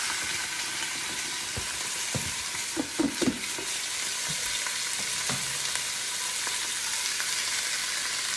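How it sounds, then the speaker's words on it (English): Barbacoa meat sizzles steadily in a hot pan, a constant crackling hiss with occasional pops and scraping sounds close by. "Hear it sizzling?"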